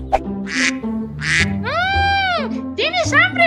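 A newborn duckling quacks in a string of loud, close, wavering calls that rise and fall, mixed with high-pitched vocal sounds that may be a voice imitating it, and children's voices also sound.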